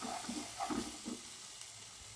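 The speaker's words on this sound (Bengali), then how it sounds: "মশলার মধ্যে অল্প জল দিয়ে দেবো। মশলা ভালো করে কষিয়ে দিয়েছি" Masala frying in a pan as a splash of water goes in, a soft sizzle with a few brief stirring scrapes near the start, fading to a low steady hiss.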